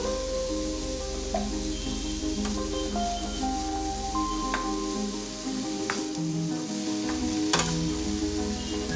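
Grated carrot and beetroot with a little turmeric cook in a pan over a low flame for pachadi, giving a soft, continuous sizzle with occasional light stirring clicks over a faint tonal background.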